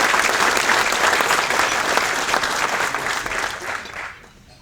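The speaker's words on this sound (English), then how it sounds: "if we can all give Matt a round of applause for everything he's done" Sustained applause from an audience at a New Hampshire Golf Hall of Fame event, a dense steady clatter of many hands that holds strong for about four seconds before tapering off near the end.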